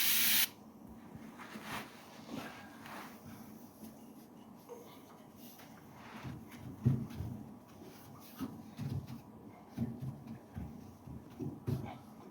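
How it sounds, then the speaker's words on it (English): Glass cleaner is sprayed onto the glass of a gas fireplace with a short, sharp hiss at the start, followed by quiet handling and shuffling noises. "So now, with it open, we'll spray this side. Clean the glass"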